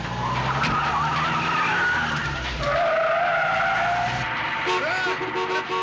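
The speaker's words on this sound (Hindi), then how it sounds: "जल्दी चलो, जल्दी गाड़ी चलो।" A car speeds away in a Hindi action movie scene, its tires screeching and skidding loudly over a roaring engine, with a shouted voice briefly over the getaway.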